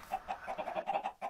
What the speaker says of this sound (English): I want to do something with these chickens. I have some trapped down right in here.